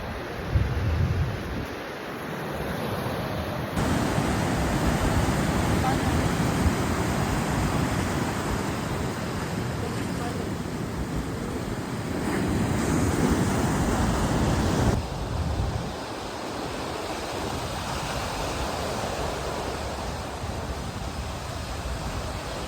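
Surf rolling onto Dharmadam beach in Kannur, a steady broadband wash of waves with wind buffeting the microphone, continuous and fairly loud with no voices.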